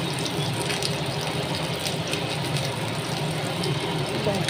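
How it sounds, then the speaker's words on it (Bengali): Hilsa fish pieces are slipped one by one into mustard sauce simmering in a pan, giving a steady broadband sizzle and bubbling hiss that runs continuously and fairly loud throughout. "আমি এক এক করে মাছগুলো ছেড়ে দিচ্ছি।"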